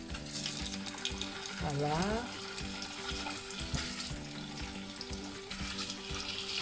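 Pieces of goat meat fry in hot olive oil in a saucepan, giving a steady, close sizzle and crackle with stirring, while a voice briefly says a word.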